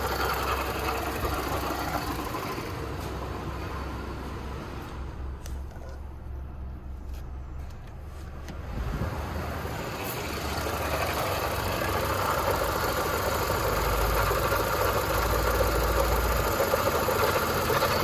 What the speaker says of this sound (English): I believe that noise is an AC compressor